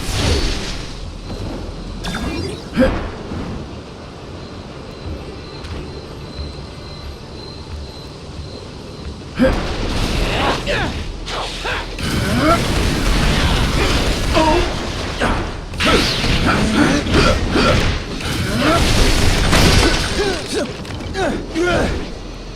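Repulsor blasts and explosions in Marvel Ultimate Alliance 3: The Black Order, loud booming bursts and clanking mechanical noise that build into a dense, sustained barrage partway through, with brief voices mixed in.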